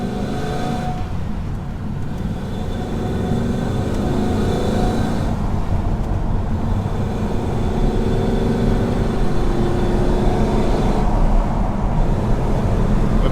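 A Nissan GQ Patrol fitted with an LS engine drives along a road, its motor droning steadily with road and wind noise, the engine note swelling in a few broad surges as it accelerates.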